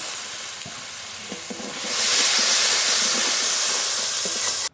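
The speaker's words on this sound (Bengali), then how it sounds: "একটু জল দিয়ে মশলাটা খুব ভালো করে কষিয়ে নেব" Spice paste frying in a pan, for a prawn malai curry, gives a low, soft crackle with stirring. A little water then hits the pan and sets off a loud, steady hiss of steam and sizzle that lasts to the end.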